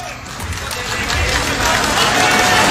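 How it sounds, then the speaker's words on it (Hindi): An audience at an Anangpur mahapanchayat rally claps, the dense, rising wash of applause and crowd noise swelling close and loud, with voices mixed in. "अगर ताली बजाओ तो ढंग से बजाओ, नहीं तो बजाए मत करे करो"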